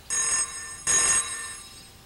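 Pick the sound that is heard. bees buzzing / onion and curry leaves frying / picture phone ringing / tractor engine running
picture phone ringing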